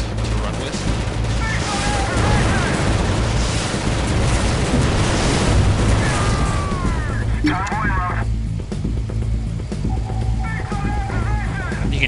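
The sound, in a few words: troops shooting in the video game League of War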